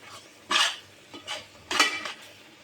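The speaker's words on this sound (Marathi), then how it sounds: "चांगलं ढवळून घ्यायचं" A methi ladoo mixture with ground cashews and almonds stirred in a pan, heard as three distinct scraping, clinking strokes of a spoon against the pan, close and clear in a quiet kitchen.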